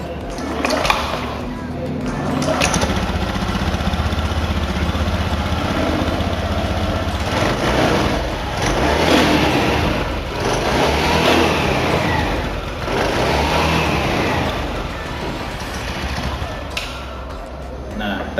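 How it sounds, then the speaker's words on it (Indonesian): Motorcycle with a CVT transmission, started and then idling with a few revs in a workshop, heard close and loud beneath a man's speech. "Saya mungkin hidupin aja motor."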